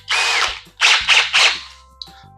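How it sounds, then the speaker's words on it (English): A standard combi drill, not on hammer mode, bores a 35mm hinge hole into a Shaker-style cabinet door with a hinge cutter: several loud close whirring bursts with brief pauses and a small click at the end. "Really simple, just literally cut it with a standard combi drill,"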